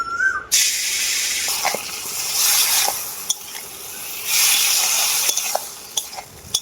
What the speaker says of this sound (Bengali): এরপর আমি ম্যারিনেট করা উচ্ছেটাও দিয়ে দেবো